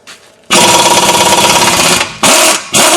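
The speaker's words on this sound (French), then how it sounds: "utiliser comme moi un embout à clé à choc" An impact wrench fitted with a Torx T55 bit rattles hard and loud for about one and a half seconds, then fires two more short bursts while removing a front brake caliper bolt on a Peugeot 207 HDi 1.6.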